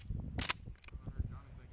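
A single shotgun shot rings out during a duck hunt, one sharp, fairly distant crack followed by quiet outdoor ambience with low voices murmuring.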